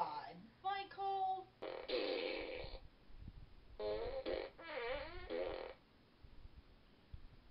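A Despicable Me fart blaster toy from Illumination blasts a run of buzzy, sputtering fart noises in several separate bursts, mixed with warbling voice-like sound effects, fairly close and loud.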